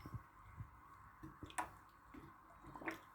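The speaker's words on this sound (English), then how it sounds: "Now we need to water it" Water poured onto soil around a newly planted pineapple top in a pot, soft drips and wet squishing sounds scattered in a few brief bursts, close and quiet with no talking.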